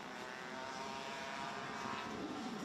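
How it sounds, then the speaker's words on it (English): A Rotax Max racing kart with a noisy exhaust drones steadily during a winter cup race, a continuous engine roar that holds at a fairly even loudness throughout. "I'm wondering if that is the 405 or the 414 that has got a noisy exhaust there."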